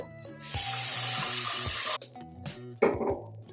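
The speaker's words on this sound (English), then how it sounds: "So we're going to fill this up with water." Water runs from a tap into a pot for a double boiler for melting soap, a steady broadband rush for a couple of seconds, followed by clinks and handling noises of the pot.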